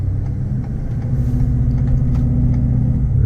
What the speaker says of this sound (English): Just the typical growl from those tires. It's a pretty aggressive noise.